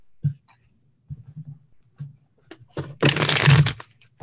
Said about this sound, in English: Those are definitely shuffled. We heard it.